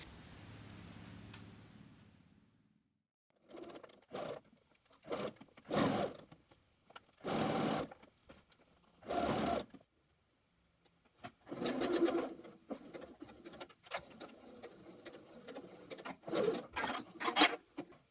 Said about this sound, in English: And then you're going to stitch from the upper edge to the dots.